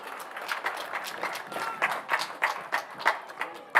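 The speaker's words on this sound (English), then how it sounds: "Round of applause regardless from the crowd here." Crowd applause at a US Open Cup qualifying-round soccer match between Ballard FC and Sharktopus FC, a moderate spread of clapping from the stands with scattered louder claps, steady over several seconds.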